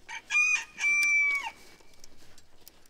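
A rooster perched up in a chicken tree crows once, a loud nearby two-part cock-a-doodle-doo, then fades into softer rhythmic clucking and faint background sounds.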